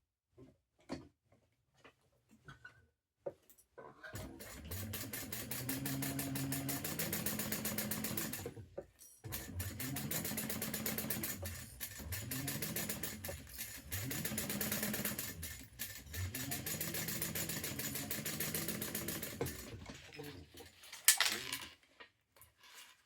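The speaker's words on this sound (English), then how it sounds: "Now we're going to sew that together." A sewing machine stitches pieces of an Erica bowler bag together in steady, close runs, pausing briefly between bursts, with a few clicks and handling noises before it starts and after it stops.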